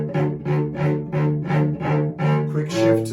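Cello played off the string, a steady series of about seven short bounced notes in even rhythm, close and clear with no talk.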